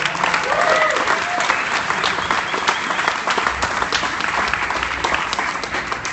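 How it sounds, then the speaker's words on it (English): A crowd at the College Football Hall of Fame in Atlanta applauds loudly and continuously, with dense clapping and some voices and cheers in the mix. "How about a round of applause for these guys?"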